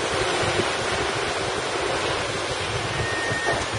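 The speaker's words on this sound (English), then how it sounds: "It's blowing the spray off the tops of the waves, and big waves going back and forth" Storm wind and big waves batter a sailboat at sea, a loud, dense, unbroken roar of wind and breaking water with spray, close and constant, with no voices.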